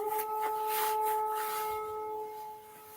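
Air-raid sirens wailing at sunrise during an attack on the capital, sustained steady tones rising and falling, heard from a distance without speech.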